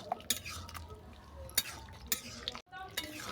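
Neem flower shukto with fried spices is stirred in a pot: faint, close scraping and light clinks of a spoon against metal over a soft background hiss, with one sharp knock near the end.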